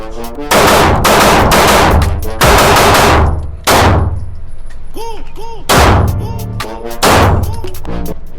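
Walther striker-fired pistol shots ring out in several loud, sharp bursts with echoing tails, some rapid strings between short pauses, with brief tonal ringing between volleys.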